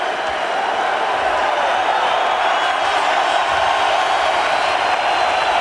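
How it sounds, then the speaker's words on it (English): A boxing arena crowd in Berlin roars for world champion Sven Ottke, a dense, loud, continuous wall of cheering that holds steady throughout. "They're on their feet here cheering for their world champion out of Berlin, Germany, Sven Ottke."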